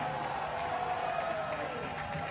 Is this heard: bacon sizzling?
no